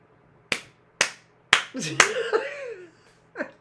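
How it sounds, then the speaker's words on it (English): A few sharp hand claps ring out at a steady pace, then a voice rises in an excited, drawn-out exclamation, with another brief vocal sound at the end. "I'm clapping for myself."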